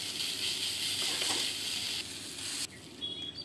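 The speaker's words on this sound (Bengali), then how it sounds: "সামান্য জিরে আর অল্প একটু পেঁয়াজ কুচি দিয়ে নেড়ে চেড়ে নেব।" Cumin and finely chopped onion fry in hot oil for aloo paratha filling, giving a steady, close sizzle and hiss that drops abruptly near the end as stirring shifts the pan.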